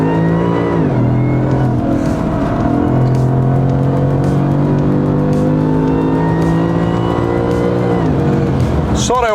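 A powerful V8 muscle car engine roars and revs hard in a sustained, loud acceleration, pitch rising and holding, with a brief tire squeal near the end.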